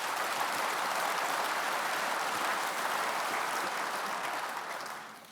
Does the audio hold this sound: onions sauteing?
no